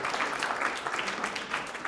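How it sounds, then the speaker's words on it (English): Audience applause at a conference coffee break, a brief burst of dense, steady clapping from a room of people. "Let's give them one round of applause, please."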